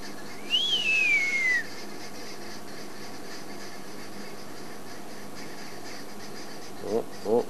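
A person whistles a rising then gliding-down call in imitation of an arrow-marked babbler, clear and fairly close, followed by a few faint short whistled notes near the end.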